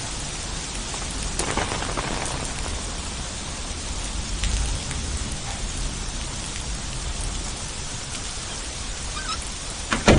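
Steady rain falls on an evening, a dense, even hiss of drops on surfaces that continues without a break and stays close and enveloping throughout.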